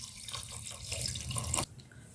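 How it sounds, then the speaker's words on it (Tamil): Water pours steadily into a pressure cooker holding cleaned goat intestines as a dish is prepared, a close splashing stream that stops abruptly near the end. "குக்கர்ல நம்ம 1/2 லிட்டர் தண்ணி சேர்த்திக்கலாங்க"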